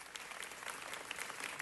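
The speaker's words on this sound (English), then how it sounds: "Can we give them a big, huge applause because this day belongs to them." Audience applause at a Los Angeles City Council meeting honoring the city's first public high school: dense, steady clapping from many hands, fairly faint and distant, with no talk over it.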